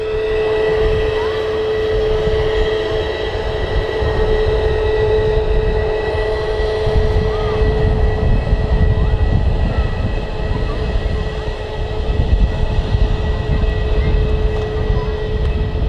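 An EasyJet Airbus A320neo airliner taking off from Manchester Airport, heard as a loud, sustained jet-engine roar with steady tonal whine that holds strong throughout.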